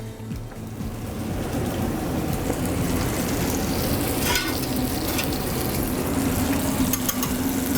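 Hot grease sizzles steadily as a wet spatula works through a pan of venison chicken-fried fat, a dense crackling hiss that swells slightly partway through, with no voices.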